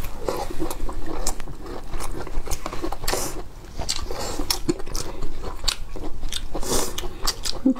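Close, crisp biting and wet chewing of spicy mushrooms, with repeated crunchy bites and squishy mastication sounds continuing steadily throughout, no talking.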